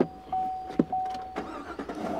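A pickup truck engine cranks and catches in a brief start, a rough mechanical rumble rising to a steady running sound, close by and fairly loud with a thin steady whine over it.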